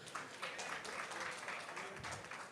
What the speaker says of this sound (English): we all deserve a round of applause